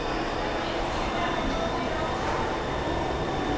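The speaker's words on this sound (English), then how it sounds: "We're now on the tube train going back to Blackfriars." Inside a London Underground tube train heading to Blackfriars, a steady loud rumble and hiss of the moving carriage fills the space, with a faint high whine and a voice speaking over it.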